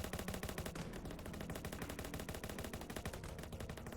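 Infantry gunfire in a strategy war game: continuous rapid bursts of rifle and machine-gun fire, dense and steady throughout, with no talk.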